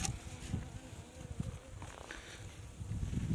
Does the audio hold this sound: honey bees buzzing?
yes